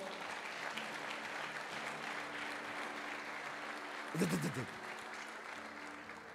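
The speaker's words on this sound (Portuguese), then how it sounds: "Será que você pode aplaudir ao Senhor?" A church congregation applauds during an evening worship service, steady broadband clapping filling the room at moderate level, with a brief louder burst of voices or shouts rising near the end.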